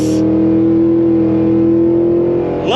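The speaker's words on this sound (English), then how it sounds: "love that V8. The freaking way the thing shifts, it's like a Gatling gun of shifts." A 2023 Cadillac Escalade-V's V8 engine drones loudly at a steady high pitch under hard acceleration, then its tone sweeps upward at the end as it shifts gear.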